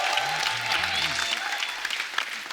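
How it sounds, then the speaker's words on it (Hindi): A studio audience on a Hindi comedy talk show bursts into applause, a dense burst of clapping that starts loud and slowly thins out, with a voice speaking over the start. "शुभ मंगल ज्यादा सावधान के लिए एक बार जोरदार ताली हो जाए"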